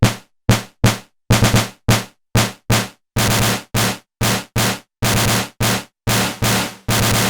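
A WMD Kraken Eurorack snare drum module, gain turned up into distortion, gives harsh, distorted electronic snare hits in an irregular rhythm, each burst loud, noisy and crunchy, cutting off sharply between hits.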